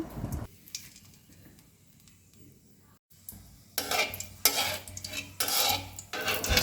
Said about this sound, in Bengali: আমি প্রথমেই কড়াইতে সরিষার তেল দিয়ে নিচ্ছি তারপরে শুকনা মরিচ ছিঁড়ে দিলাম